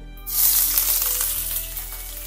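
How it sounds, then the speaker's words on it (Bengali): Chopped onions dropped into hot oil in a pan for begun bhaja, where red chilli has already blackened, setting off a sudden loud hiss that settles into a steady close sizzle. "ঠিক এই সময় আমরা আগে থেকে কেটে রাখা পেঁয়াজ গরম তেলের মধ্যে দিয়ে দেব"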